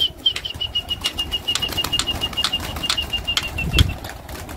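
Pigeons flap their wings in a rapid flurry as they are driven up off a perch with a stick, with repeated close wingbeats and a thin, steady high chirp running through.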